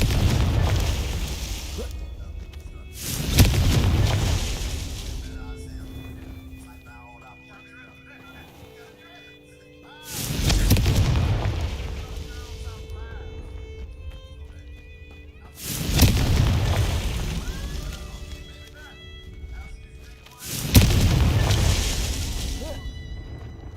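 Confringo spell explosions in the Hogwarts Legacy video game: four loud booming blasts spaced several seconds apart, each with a crackling, shattering tail, over quiet ambient game sound.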